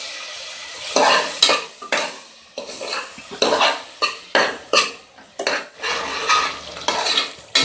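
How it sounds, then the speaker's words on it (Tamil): Ginger, garlic, onion and tomato sauté in a pan with a low sizzle as a spoon scrapes and stirs in steady, rhythmic strokes, each stroke a distinct rasp against the metal, close and clear, with no speech. "நல்லா இஞ்சி பூண்டு வெங்காயம் தக்காளிலாம் நல்லா வதக்கிடுச்சு"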